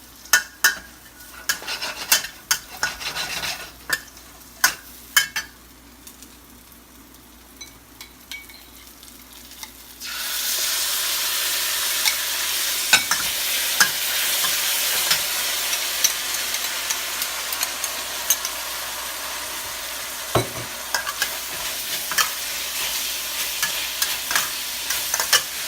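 Cashew chicken with mushrooms being stir-fried in a pan in a tiny kitchen: intermittent utensil scrapes and clacks at first, then a loud, steady sizzle takes over with occasional stirring knocks on top.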